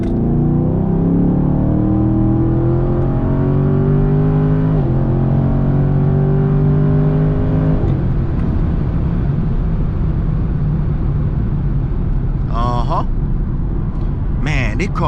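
A Chevrolet Camaro SS accelerates hard, its engine note climbing through rising gear pulls and dropping at each shift before settling into a steady roar from inside the car, with a brief voice near the end.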